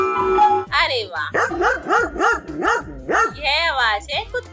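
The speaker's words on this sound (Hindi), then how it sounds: "यह आवाज है कुत्ते की।" A dog barks and yips in a run of several sharp, evenly spaced calls, loud and close, with a short whine and music underneath; the barking is in a children's classroom sound-guessing game.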